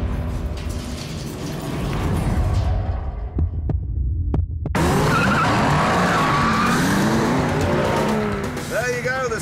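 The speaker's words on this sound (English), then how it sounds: "They will now race round our track" A Mercedes McLaren, an Aston Martin DBS and an Audi R8 race around a track, one with a 5.4-litre V8 and one with a 6.5-litre V12. Loud engines roar and rise in pitch through the gears, with a brief near-silent gap before the noise returns.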